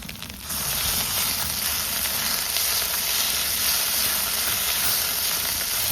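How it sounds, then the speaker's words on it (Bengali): Ginger-garlic paste hits hot oil for a chicken biryani and bursts into a loud, steady close-up sizzle and hiss that holds evenly throughout. "এবার আদা রসুন যতক্ষণ না কাঁচা গন্ধ গিয়েছে ততক্ষণ আমি সুন্দরভাবে কিন্তু তাই কষাবো।"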